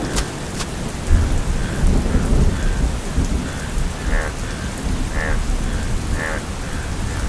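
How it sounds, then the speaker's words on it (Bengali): Heavy cartoon rainstorm at a cremation ground in a horror story: a loud, steady downpour hisses throughout while rolling thunder rumbles underneath, with faint voices briefly audible. "বৃষ্টি যা হচ্ছে মনে হয় না আজ আর থামবে"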